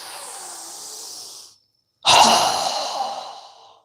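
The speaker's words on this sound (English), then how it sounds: "Strong exhale." Two strong breaths during a breathing exercise: a long breathy inhale is followed by a brief pause and then a forceful, close exhale that fades out.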